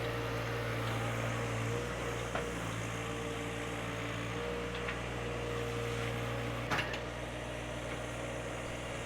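A compact tractor pulling a box blade through a heavy grading cut gives a steady, loud engine drone under load, with a couple of brief clunks midway and no talking.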